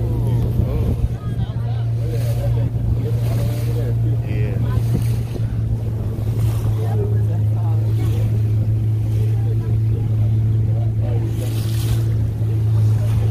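A small boat on open water with waves washing and slapping against the hull under a steady engine drone and wind buffeting the microphone, while people talk nearby.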